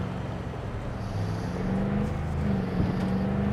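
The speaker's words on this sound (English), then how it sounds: "it's so much fun to drive on this game" A car drives in Cyberpunk 2077 on PS5, its engine a steady, fairly loud drone that rises and shifts in pitch as it accelerates, with no voices over it.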